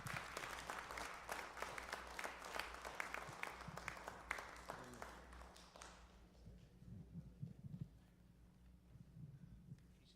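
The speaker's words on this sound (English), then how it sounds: "Let's give them a round of applause" An audience at an evening education roundtable hosted by a community organization claps for about six seconds, dense and fairly close, then it thins into a few scattered claps and soft room noise.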